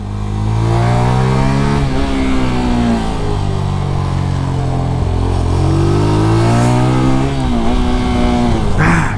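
A 125cc kart engine revs loudly on a kart track, rising and falling in pitch through repeated throttle sweeps and shifts, close and continuous with no talking.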